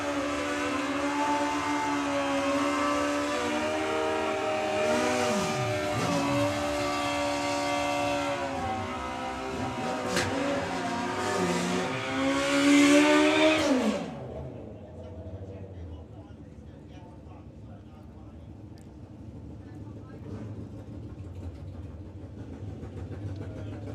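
Drag racing motorcycles in the 9.50 bike class run at a sportsman nationals meet, a loud engine wail with rising and falling pitch sweeps that cuts off abruptly, leaving quieter background noise.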